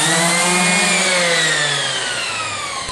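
High-grit sandpaper worked over a seam in acrylic, heard as a loud, continuous close-up whine with a falling pitch that sounds like a power sander, alone and without talk.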